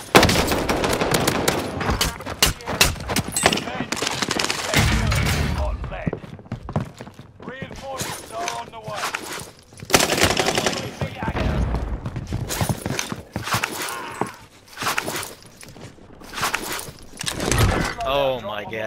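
Rapid video-game gunfire, bursts of close sharp shots and automatic fire in uneven clusters, mixed with frustrated talk throughout.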